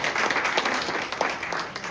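Audience applause at a company gathering: a short burst of many hands clapping, steady and fairly close, filling the whole moment.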